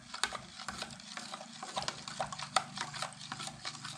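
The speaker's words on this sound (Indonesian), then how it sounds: "Ini kita aduk sampai merata, sampai dia larut micinnya teman-teman." Fertilizer mixture being stirred in water as MSG dissolves, a close, busy run of scraping and sloshing strokes repeating steadily for several seconds with no talk.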